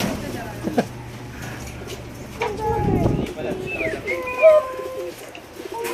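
Pigeons coo repeatedly at a pigeon house, with soft low calls and some higher chirps nearby, while a child and an adult talk over them.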